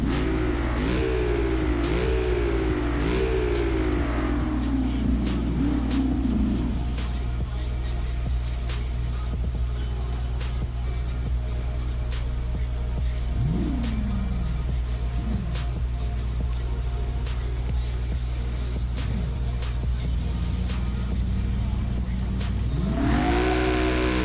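A rebuilt Ford Mustang GT V8 revs and accelerates through repeated gear changes in the BeamNG driving game, its loud engine drone rising and dropping steadily, then settling into a constant hum before revving up again near the end.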